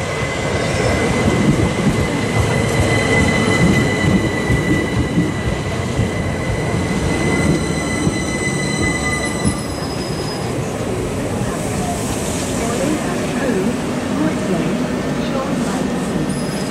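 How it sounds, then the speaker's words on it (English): A Southern Electrostar class 377 electric train rolls into Preston Park station with a steady rumble, wheels squealing and high whining tones, loud and close, with a faint announcement voice. "approaching platform 3 is the 1648 Southern service to Littlehampton."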